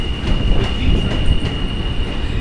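An elevated subway train passes through a station in Brooklyn, New York City, a loud, steady rumble of wheels and cars with rhythmic clacks and a faint high whine throughout.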